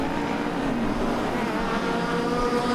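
Porsche and BMW race cars pull away together at a classic car race meeting, a loud sustained engine roar that rises steadily, with no talk over it.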